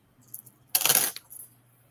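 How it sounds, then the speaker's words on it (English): Dice for a tabletop RPG roll are shaken and then clatter onto a hard surface in one short, sharp burst. A few faint ticks come first and a brief rattle follows in a quiet room. "go ahead and roll your dice"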